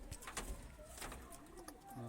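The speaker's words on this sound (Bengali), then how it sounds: "পায়রা দুটো স্ট্যান্ডিং কোয়ালিটি, পায়রা একটু ভয় করছে।" Madrasi pigeons coo softly in short, low murmuring bursts, fairly close, over a busy background with some voices and movement nearby.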